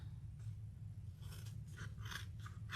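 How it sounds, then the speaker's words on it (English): Cheap paper scissors snipping through paper to cut out a butterfly shape, with several short crisp cuts in the second half over a steady low hum, close and fairly quiet. "Those are really awful paper scissors."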